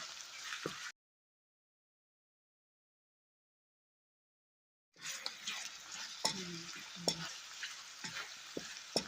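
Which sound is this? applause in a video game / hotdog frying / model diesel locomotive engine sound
hotdog frying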